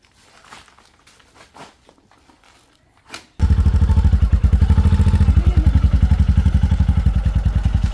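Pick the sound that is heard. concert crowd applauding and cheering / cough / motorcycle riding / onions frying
motorcycle riding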